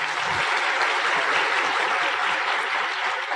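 Dense, continuous applause from an audience at an Indonesian motivational business seminar, a loud, even wash of many hands clapping together with no pause.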